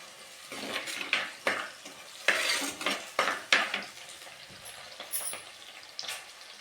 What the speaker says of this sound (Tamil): நல்லா ஃப்ரை பண்ணி பச்சை மிளகா சின்ன வெங்காயம் நல்லா ப்ரௌன் ஆகணும்